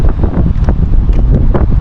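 Steady wind rushing and buffeting across the microphone at a beach, with a low roar like surf underneath, continuous and fairly loud throughout.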